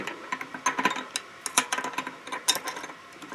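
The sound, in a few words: wrenches loosening cone and locknut on vintage Shimano hub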